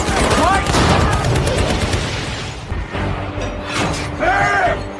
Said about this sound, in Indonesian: Terjadi baku tembak di antara mereka.